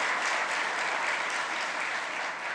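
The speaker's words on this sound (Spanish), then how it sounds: "un aplauso" A conference audience applauds in a dense, steady wash of clapping that holds at full strength throughout.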